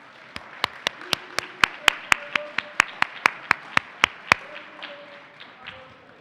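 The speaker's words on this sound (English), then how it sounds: "let's give a round of applause" Sparse, evenly spaced hand claps, about sixteen sharp distinct strikes, ring out at a technology summit on aging and disability before trailing off into quiet room tone.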